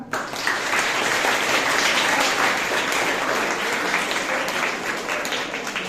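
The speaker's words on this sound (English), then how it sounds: "give them a big round of applause" A crowd applauds steadily and loudly, a dense wash of many hands clapping at once without pause.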